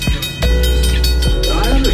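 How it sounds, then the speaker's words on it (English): A small park railroad train runs through Irvine Regional Park, its wheels rumbling close with rhythmic clacks over rail joints and a low steady drone, while a voice talks over it. "here we go into the train tunnel"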